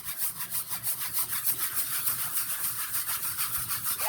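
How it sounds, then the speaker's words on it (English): A scrub brush scrubs a tire in rapid back-and-forth strokes, a bright rhythmic bristly rasping that repeats steadily, close and fairly quiet, with no voices. "let's give it the scrub brush treatment too."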